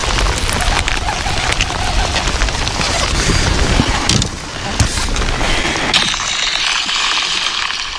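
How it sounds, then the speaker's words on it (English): Rain falling on a lake during a bass fishing outing, a dense hissing patter with occasional heavier knocks and bumps nearby, easing slightly toward the end. "The rain is a-coming."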